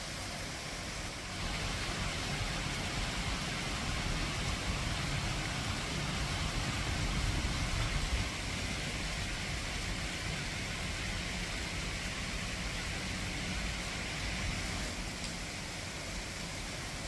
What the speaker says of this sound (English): Very rainy outside today.